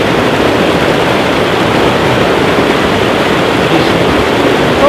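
A waterfall at the Potto Beck fish pass roars as a loud, steady, broadband rush of falling water close by, with no talk over it.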